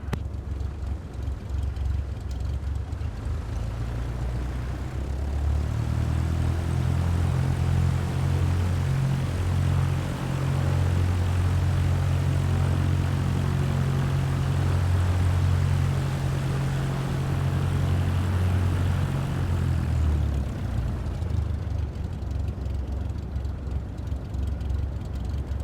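A Cessna propeller plane taxis toward the runway, its engine a loud, continuous low drone that swells in the middle and eases off again over about twenty-five seconds.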